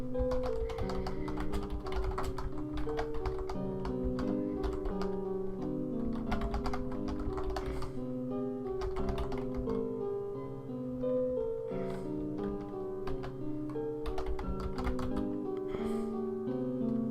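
Computer keyboard typing in rapid, uneven bursts of clicks, layered over steady music playing throughout.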